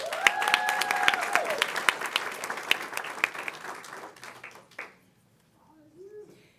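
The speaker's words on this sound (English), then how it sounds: "A round of applause for Chelsea Rizzo, Haley Eccles, Casey Culver," A board of trustees meeting audience applauds student presenters, a dense round of clapping that fades out after several seconds, leaving near silence before a faint voice begins.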